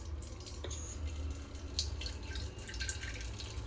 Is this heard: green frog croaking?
no